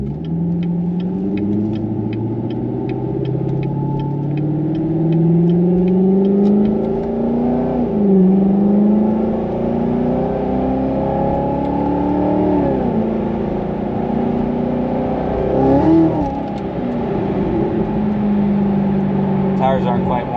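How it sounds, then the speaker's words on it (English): Corvette Z06 engine revving while being driven, a loud, rising and falling engine note through repeated gear changes heard from inside the car, with a person talking over it. "Oh my god, the car sounds so good."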